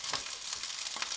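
Butter sizzles in a frying pan for Thai fried rice with shrimp, a steady close hiss with faint crackles and stirring scrapes, no voices.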